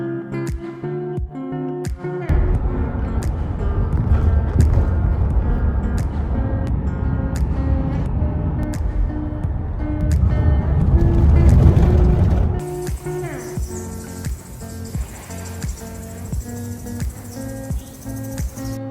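A vehicle drives along a road in the Kilimanjaro region of Tanzania, its steady engine and road rumble running for most of the stretch under music, with insect-like chirring above it.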